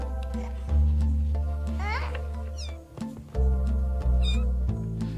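Several six-week-old kittens meow in short, rising cries over a steady loud musical background, with a brief dip in the middle before the music swells back.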